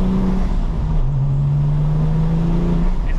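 A manual-transmission 997 Porsche 911 Turbo tuned to 800 horsepower accelerates on a public road, heard from inside as a loud, steady engine drone rising smoothly in pitch through the gear, with whooshing wind and road noise.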